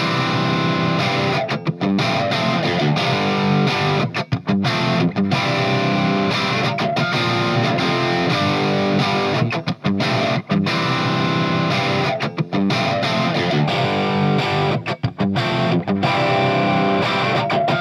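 Heavily distorted electric guitar through a Hughes & Kettner Tubemeister Deluxe 40 tube amplifier plays continuously and loud, thick and saturated, with only brief gaps between chords.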